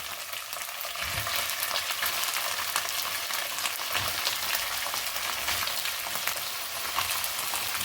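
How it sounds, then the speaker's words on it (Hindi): Garlic ginger paste and chicken fry in a kadahi with a steady, close, continuous sizzle and crackle, stirred now and then. "इसे हम हल्का सा फ्राई करेंगे"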